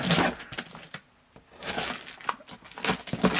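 Packing paper crinkles and crumples in close, loud bursts while Kobe VII Supreme Christmas Cheetah shoes are unboxed, with short pauses between handfuls and no speech.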